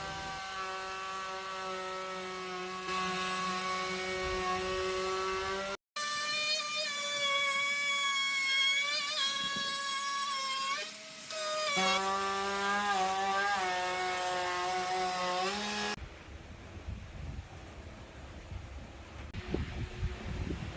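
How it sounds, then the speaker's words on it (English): A router fitted with a 45-degree bit trims the top and bottom edges of a wooden end grain cutting board, a loud high-pitched whine that shifts in pitch as it cuts, with a brief break before it ends in quieter handling noise. "I'm going to use a 45-degree bit on this router. I'm going to trim it on top and at the bottom."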